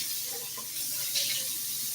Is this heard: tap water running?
yes